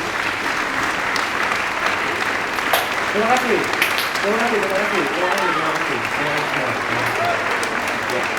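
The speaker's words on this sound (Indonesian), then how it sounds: "Mari kita beri tepuk tangan yang meriah" Sustained audience applause fills a hall at a school speech contest on preserving the environment, steady and dense clapping throughout, with a brief spoken thanks near the start.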